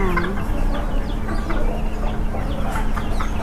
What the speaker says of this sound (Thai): ชุดนี้ก็จะเป็นไก่แจ้นะครับ ไก่เตี้ยๆพวกนี้ตัวละ500 บาทครับ